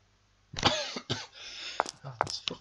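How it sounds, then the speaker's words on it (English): A person coughs several times in short, harsh bursts at close range, with brief pauses and a breathy throat sound between them. "Oh, this fucking cough."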